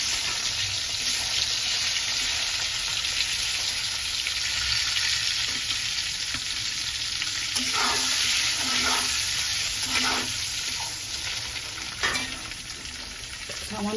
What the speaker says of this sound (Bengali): এক এক করে আন্ডা দিয়ে দিচ্ছি। আন্ডাগুলো ফ্রাই করে নেব আচ্ছা করে।